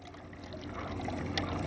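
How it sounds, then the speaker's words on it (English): Water trickles in a faint, steady stream from a slightly cracked-open valve on a fertigation reservoir, a soft continuous flow with no talk. "We'll just get a small trickle coming out of here"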